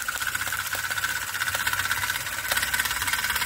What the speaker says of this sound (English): Jimmy, if you give that flywheel a spin. There she goes. Rat engine number two